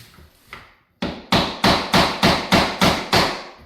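A few soft taps, then a steady run of sharp, loud wooden knocks, about seven evenly spaced hits, close by, as a flooring plank is tapped until it clicks into place.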